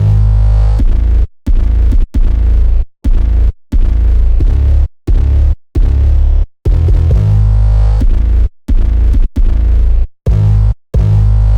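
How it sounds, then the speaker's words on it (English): Deep 808 bass drum hits in a hip-hop beat, loud booming notes in a choppy rhythm with short gaps between them, played alone without other instruments. "The only other thing I did for drums was using this different 808."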